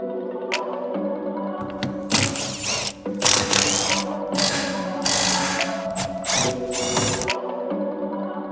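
Bolts on the rear spring of a Mk8.5 Golf GTI Clubsport being undone with a ratcheting power tool. Loud close whirring bursts alternate with short pauses and clicks, and no one speaks.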